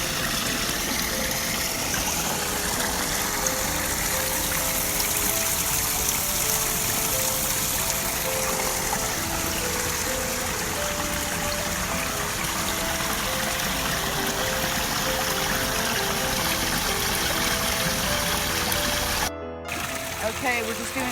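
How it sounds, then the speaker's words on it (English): Water from a pump test run pours down a DIY koi pond stream, making a continuous, even rushing and trickling flow that holds steady throughout and briefly cuts out near the end. "we're just doing a test run with the pump. I'm kind of liking the flow."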